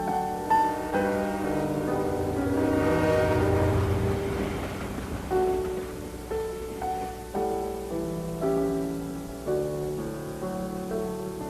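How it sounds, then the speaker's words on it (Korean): A departing train pulls away, its horn sounding in sustained chords over a low rumbling swell that peaks and then fades into a quieter series of tones. No voices. "다시 떠나가는 기차 소리가 완전히 사라질 때까지"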